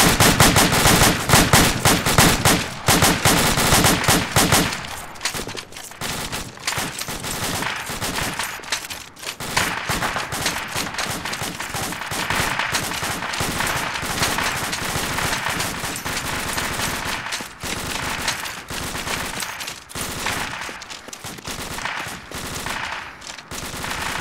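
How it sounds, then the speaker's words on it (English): Suppressing fire in Arma 2 sets dense automatic-weapon bursts rattling almost without pause, loud and close, the crackle layered with distant shots and echoes across the whole stretch. "Let's give some suppressing fire."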